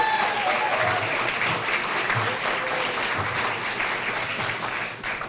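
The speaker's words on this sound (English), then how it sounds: "Could I ask you all to give a round of applause for Sonia?" Audience at a black-tie charity gala applauding for Sonia, a dense, continuous wash of many hands clapping at once, loud and sustained, easing slightly toward the end.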